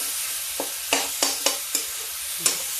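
Banana pieces fry in hot ghee for a banana chutney: a soft steady sizzle broken by about six sharp spatula scrapes and knocks against the pan, close by and with no talking.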